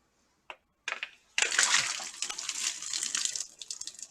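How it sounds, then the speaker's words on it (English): Pasta cooking water pours from a pot into a kitchen sink after a couple of small clanks, a steady rushing splash that runs loud and close for several seconds. "Let me drain the pasta water."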